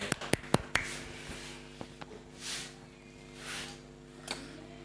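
A handful of sharp hand claps snap out in quick succession near the start, followed by quieter room noise and faint scattered sounds.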